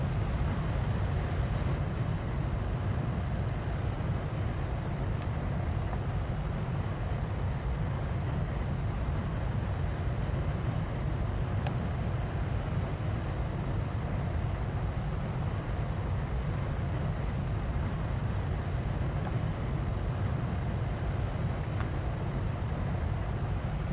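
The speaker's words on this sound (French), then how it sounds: "Je comprends pas pourquoi il a pas arrêté son moteur." An AV-8B Harrier jet engine keeps running aboard an aircraft carrier in a flight-sim game, a steady, dense low roar that holds unchanged and without pause for the whole stretch.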